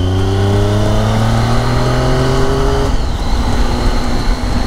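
A Triumph Tiger motorcycle engine growling on a mountain road, a loud continuous drone whose pitch climbs steadily as it revs, then drops and settles into a rougher rumble, heard alone.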